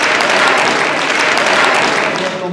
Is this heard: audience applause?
yes